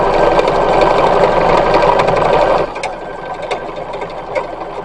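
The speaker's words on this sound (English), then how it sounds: "Alright, now we're going to sew in the sleeves." Sewing machine running loud and steady while sleeves are stitched into a 1916-style embroidered linen dress, a fast continuous whirring hum that stops abruptly midway, leaving light fabric rustling and small clicks.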